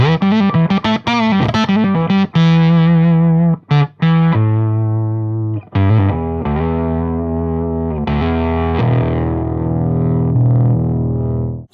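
Electric guitar played through a Boss OC-3 Super Octaver with the octave level turned up, a thick, distorted tone where the added low octave dominates; a run of short picked notes gives way to longer sustained ones, loud and alone.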